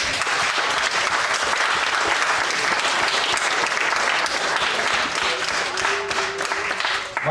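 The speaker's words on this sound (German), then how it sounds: "Aber Jungs und Mädels, hat er einen Applaus verdient, ja, ne?" A crowd at a BMW owners' meeting applauds warmly, steady dense clapping sustained for several seconds and close by, with a few faint voices underneath.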